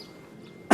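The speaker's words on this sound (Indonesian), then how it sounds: "kenapa pian batuk?" One short, close cough bursts out abruptly near the end, after a stretch of quiet background hiss.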